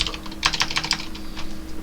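A short, close burst of quick key clicks on a computer keyboard while C++ code is typed, a light uneven patter with brief pauses and no voices.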